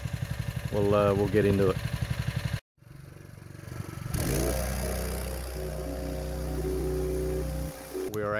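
An engine idles on a fire fighter trailer, a steady low rumble and clatter that starts after a short gap and holds at medium loudness, with someone talking over it at the start.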